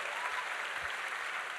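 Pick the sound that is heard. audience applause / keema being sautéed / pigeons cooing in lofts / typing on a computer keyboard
audience applause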